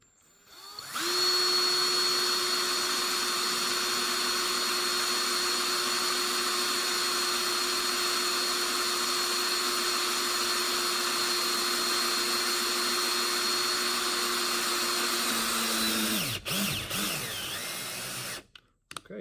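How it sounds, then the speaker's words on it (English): A Ryobi cordless drill on its slow drive setting runs an 8-32 drill and tap bit, a steady loud whine holding for about fifteen seconds before slowing, stopping and briefly reversing. "with a Ryobi cordless drill set on the slower speed setting, the drive speed setting, so that we can tap as well."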